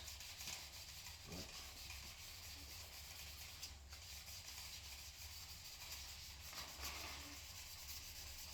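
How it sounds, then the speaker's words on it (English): Steady abrasive rubbing, a continuous gritty scrubbing under a low hum, with no voices, from wet sanding by hand during a 1967 Pontiac Firebird restoration. "So we just keep wet sanding away here."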